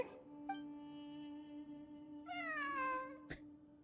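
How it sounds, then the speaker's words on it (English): A cat meows in Genshin Impact, one short faint mew followed by a longer, clear, rising-and-falling meow, set against a steady low tonal hum and a quick click near the end. "A cat? I think there was one earlier, too."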